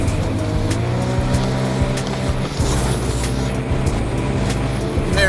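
Sea-Doo Spark personal watercraft held at wide open throttle, its engine a loud, constant high-revving buzz with a dense stack of harmonics and a brief dip midway, close and continuous throughout.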